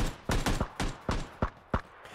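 Gunfire in the battle royale game PUBG: a burst of about seven sharp, evenly spaced shots, loud and close, with no talk over them.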